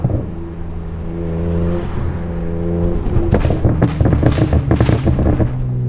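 Straight-piped BMW 335i with a VRSF race exhaust revs hard and loud, a steady rising drone giving way to rapid sharp crackles and pops, close and alone.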